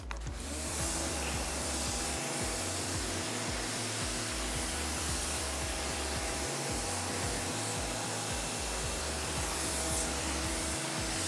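Steady, loud hissing water spray from a rinse during car detailing, with a continuous rushing sound and a low mechanical drone running beneath it.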